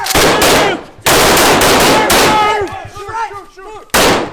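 Rifle gunfire rings out during a dynamic shooting drill for a private military contractor exam. Loud, sharp bursts of rapid shots come close together and are separated by brief pauses, with echoing reports between volleys.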